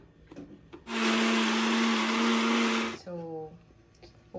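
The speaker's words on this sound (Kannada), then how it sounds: "ಇದನ್ನೀಗ ಗ್ರೈಂಡ್ ಮಾಡೋಣ ಮಸಾಲೆನ" A mixer grinder whirs loudly at high speed grinding mango pickle spice masala for about two seconds, then winds down; short bursts and background noise come before and after.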